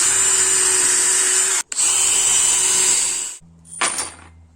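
A power drill bores a hole into a wooden board, a loud steady whine that runs, pauses briefly, runs again, then stops, followed by a short lower spin-down and a rattle, close up with no talking.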